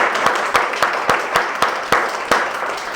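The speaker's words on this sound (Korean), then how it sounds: "우리 박수로 격려하겠습니다." Congregation applauding to encourage church school teachers, a dense burst of clapping with a few sharper claps standing out, loud and close throughout.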